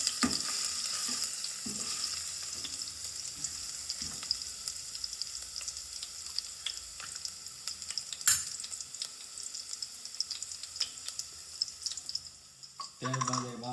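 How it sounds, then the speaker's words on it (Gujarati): Garlic roasting in a pan gives a steady, close sizzle and crackle, with occasional sharp stirring clicks and no talking. "આપણે લસણ થોડું શેકાવા દઈશું."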